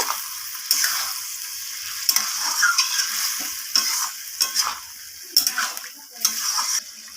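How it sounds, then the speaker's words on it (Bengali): Parboiled cabbage stirred into a vegetable curry in a pan, with repeated scraping strokes of the spoon over a moist sizzle, loud and close, irregular in rhythm. "এরপর আমি বাঁধাকপিটাকে সব কিছুর সাথে এইভাবে নাড়িয়ে সারিয়ে নেব"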